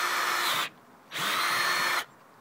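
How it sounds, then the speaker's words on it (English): A power drill bores through a PVC bottle cap in two sustained bursts of steady whirring, close and loud, with a brief pause between them and no speech. "lining up your drill with the middle of the cap as best you can"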